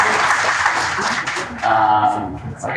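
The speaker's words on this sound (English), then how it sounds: "let's give a round of applause to these amazing athletes" A live audience at a Boston Marathon panel claps for the athletes, a close burst of applause with some voices mixed in, thinning toward the end.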